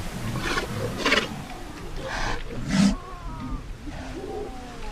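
Sea lions in a coastal desert colony call out, deep roaring barks and groans rising and falling in several bursts over a low background murmur.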